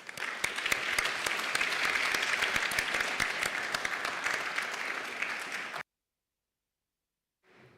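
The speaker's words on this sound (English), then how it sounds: "So round of applause for everyone here." Conference audience applauding panelists in a hall: dense, even clapping for about six seconds that stops abruptly, followed by near silence.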